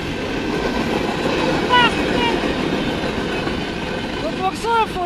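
A Union Pacific C44CM rebuilt locomotive leads a train past at Ladysmith, Wisconsin, a steady loud rumble of rolling cars with brief squealing wheel tones, under excited talk nearby.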